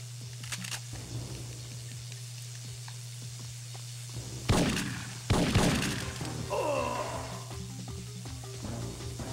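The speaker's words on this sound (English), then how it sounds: "I'm gonna shoot you with a sniper rifle" Two loud, sharp sniper rifle shots ring out in the PS1 game Syphon Filter, spaced about a second apart, over a low steady hum with faint background game noise.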